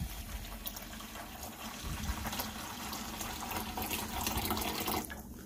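Water pours steadily into a container as oat water is made for a herbal bath, a continuous close gushing and filling sound with no talk.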